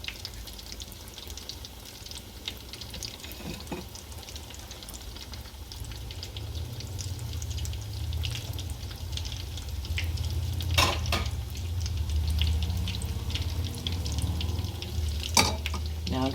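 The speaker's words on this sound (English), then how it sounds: "If that starts to sizzle, then you know it's hot enough." Salmon patties frying in hot oil, a steady close crackle and sizzle running the whole time with a low rumble beneath and a few sharper pops.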